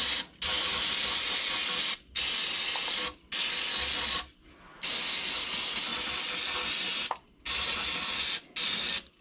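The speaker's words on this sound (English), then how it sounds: "let's go ahead and spray this down" Several bursts of aerosol spraying into engine cylinders through spark plug holes, each a steady hiss lasting about a second or two, separated by brief pauses, close and fairly loud.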